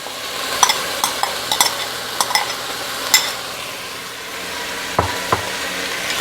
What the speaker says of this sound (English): And I'm gonna add my onions.